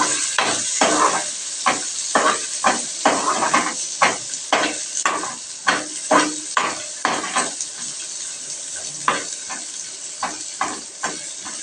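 Ginger frying in a pan gives a bright, steady sizzle, close and fairly loud, broken by repeated scraping strokes of a spoon at a quick, even rhythm, with no voices.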